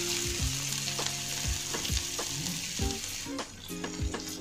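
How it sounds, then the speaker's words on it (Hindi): Chopped onions hit a pan already frying with garlic, sizzling loudly and steadily up close while a spoon scrapes and stirs in repeated knocks, no voices. "अब हम इसमें प्याज जो हमने पहले से काट के रखे हुए हैं"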